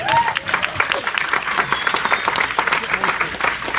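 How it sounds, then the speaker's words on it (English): A room full of people applauds, dense rapid clapping at close range with a few whoops and voices mixed in, loud and sustained throughout. "I think we owe them an applause, right?"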